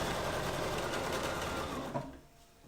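A sewing machine runs steadily, basting stitches on romper shorts, a quick continuous whirring motor that stops near the end.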